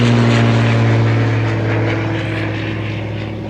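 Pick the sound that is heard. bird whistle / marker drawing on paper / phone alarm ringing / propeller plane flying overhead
propeller plane flying overhead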